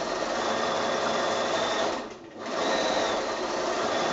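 A sewing machine stitches a flange onto a quilt, binding by machine, with a steady close whir that pauses briefly midway and then resumes.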